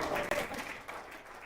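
Audience applause breaks out at a network marketing talk, a dense, steady wash of clapping filling the whole short moment at moderate loudness.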